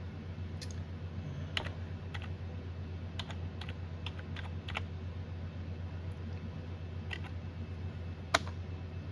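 Typing on a computer keyboard while programming a Motorola 6m repeater, a steady run of light, close clicks and taps with a few sharper keystrokes over a constant low electrical hum, no talk.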